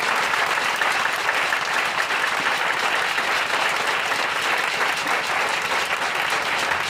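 A large church congregation applauds loudly and continuously during an evening preaching service, a dense wash of clapping that holds steady throughout.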